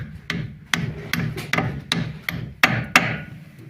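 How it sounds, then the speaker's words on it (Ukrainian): Repeated metallic hammer blows from a copper hammer striking a nut while replacing front shock absorbers on a Skoda Octavia A4, about eight sharp strikes at an uneven pace, ringing briefly over a low background hum. "Але ще краще, якщо ми візьмемо мідний молоток."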